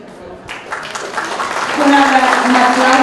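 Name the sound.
applause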